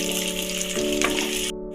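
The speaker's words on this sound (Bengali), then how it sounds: "তেলটা আমার গরম হয়ে গেছে। এবারে আমি দেবো পেঁয়াজ।" Onions tipped into hot oil sizzle loudly and continuously in a pan, with a steady hum in the background, before the sound drops away abruptly near the end.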